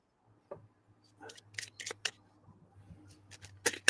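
Soft, quick riffles and snaps of cards being shuffled in short bursts, close and fairly quiet, with a low hum beneath.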